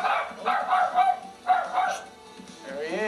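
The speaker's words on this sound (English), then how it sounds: "for the barking that would inevitably follow" Dogs bark repeatedly nearby in short bursts after a knock at the door, mixed with a person talking over them, the barking fading toward the end.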